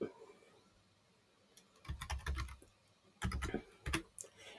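Typing on a computer keyboard to enter text into a Canvas app, heard as two quick bursts of close keystroke clicks separated by short pauses, with no talking.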